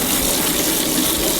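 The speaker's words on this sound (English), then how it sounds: "I'm just going to rinse it really good." Running tap water pours steadily and loudly over hair being rinsed after bleaching, a dense close splashing rush with no voices.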